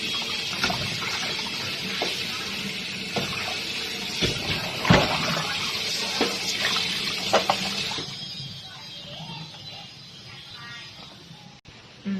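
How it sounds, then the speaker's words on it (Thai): Running water pours steadily from a tap over pork ribs being rinsed of salt, with faint clinks and splashes, then the flow stops near the end. "ล้างเลยล้างเกลือนะ ล้างให้สะอาดเลยนะ"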